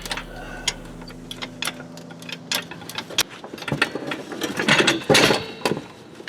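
A floor jack ratchets up under a Lexus SC300 during an LS engine swap, its handle strokes producing irregular clicks and clunks up close, growing busier and louder toward the end with no talking.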